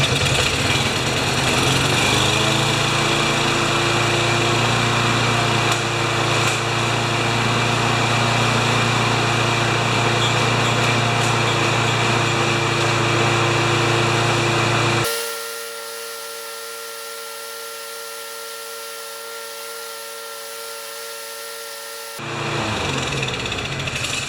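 A lawn mower engine runs loud and close at a steady idle for about fifteen seconds, then cuts out abruptly to a low hum before restarting briefly near the end.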